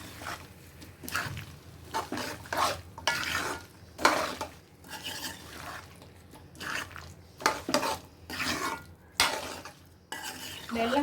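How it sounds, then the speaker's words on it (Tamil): A spoon stirs jaggery into mango pachadi in a pan, repeated scraping and clinking strokes in bursts over a faint simmering sizzle, close and steady. "வெல்லம் சேர்த்து நல்லா கலரி விட்டுக்கலாம்."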